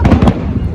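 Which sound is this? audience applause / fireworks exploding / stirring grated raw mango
fireworks exploding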